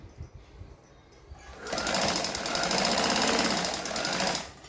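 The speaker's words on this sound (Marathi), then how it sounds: "आता आपण मागच्या पुढच्या भागाचे शोल्डर एकमेकांना जोडून घेऊ" After a brief quiet start, a sewing machine runs steadily and loudly at close range for about three seconds, double-stitching the shoulder seam of a 40-inch katori blouse with a fast, even mechanical whir.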